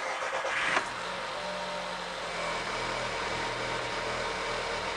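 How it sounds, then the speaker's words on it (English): A VW Golf VI with a CAXA 1.4-litre petrol engine idles roughly just after starting, a steady low mechanical hum with faint uneven pulsing and a brief louder rise at the very start. "This thing, for some reason, is running a little bit rough at idle just when it initially starts up"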